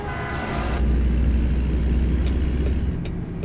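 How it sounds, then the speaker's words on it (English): A freight train rolls by in American Truck Simulator in Louisiana, a steady low rumble and rattle of rail cars that holds loud for a few seconds before tapering off, heard from a truck cab. "Where's the train at? Another train."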